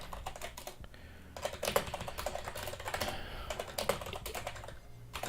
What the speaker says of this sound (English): I spilt a drink on my keyboard, and I've tried to clean my keys, and it's still sticking